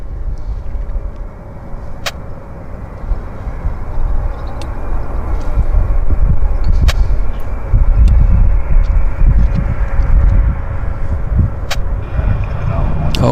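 A jet airliner inbound from Haneda lands at Vancouver's YVR airport, a loud, steady broadband roar of engines and rushing air that builds and holds, with distant outdoor ambience.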